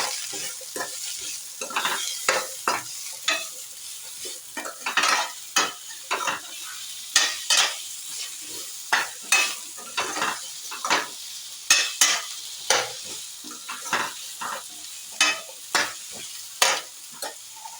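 Drumstick pieces sizzle steadily in a pan while a utensil scrapes and stirs in repeated rhythmic strokes, close up, with no one speaking.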